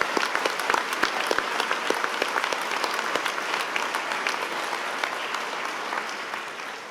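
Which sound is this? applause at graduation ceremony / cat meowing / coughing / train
applause at graduation ceremony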